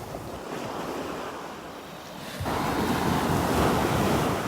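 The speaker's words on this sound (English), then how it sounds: "The waves seem to be settling down here." Gentle surf rolls onto the sand at Delnor-Wiggins beach under gusty wind buffeting, the wash growing louder as a wave breaks partway through, with no voices.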